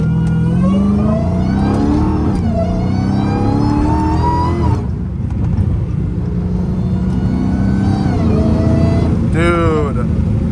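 Dodge Challenger Hellcat Redeye V8 revving hard in fourth gear around 3,000 RPM, a loud, close, steady roar with rising engine pitch throughout.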